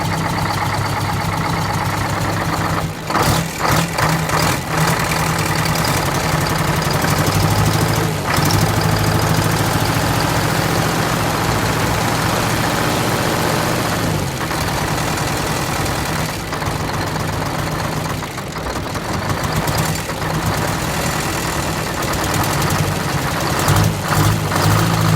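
Detroit V8 diesel engine idling after an air start, a loud, steady low rumble with a rough knocking pulse and a few brief dips in level, continuous throughout with no talking.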